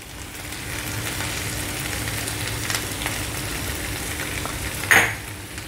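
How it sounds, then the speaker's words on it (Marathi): Jowar khichdi being stirred and sautéed in a pan, a steady soft sizzle with faint scraping throughout and one brief louder clink of the spoon near the end, no talk. "आता परतून घेऊया"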